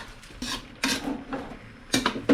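Metal utensil scraping and clanking against a pan while chili garlic shrimp is stirred, several distinct clattering strokes, close and moderately loud, with no talking.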